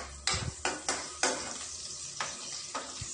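Garlic frying in a pan, with a soft steady sizzle under repeated scraping strokes of a utensil stirring, about six distinct stirs.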